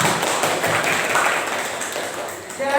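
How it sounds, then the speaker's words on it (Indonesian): Classroom applause for a student group after their presentation, a steady dense patter of many hands clapping together at moderate loudness throughout. "Kasih tepuk tangan untuk kelompok 2."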